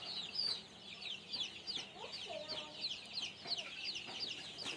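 Native Bengali chickens, a rooftop flock of young birds, cluck and peep steadily, with bright calls repeating over a faint background and no one speaking.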